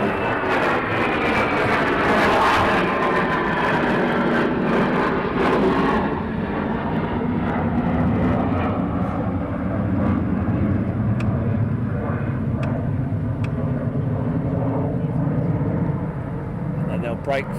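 USAF fighter jets roar over RAF Lakenheath, a loud, sustained engine rumble that sweeps past and slowly fades into a steady distant drone, heard outdoors at a distance.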